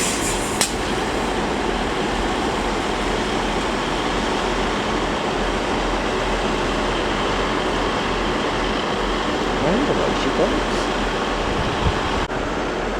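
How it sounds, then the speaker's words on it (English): A Northern Class 331 train running the service to Skipton at Leeds station, a continuous loud rumbling roar of the passing train with faint clanks and squeals on top, no voices. "there goes a 331 up working the 1356 Northern service to Skipton"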